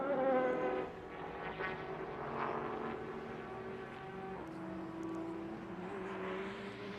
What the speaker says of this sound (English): You hear that engine, that HPD engine just roaring away.